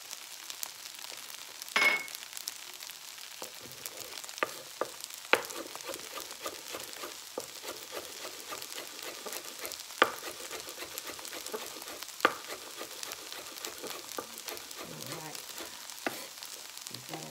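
Chicken fried rice crisping on the bottom of a hot pan over a gas flame, a soft, even sizzle with scattered faint pops and occasional utensil taps throughout.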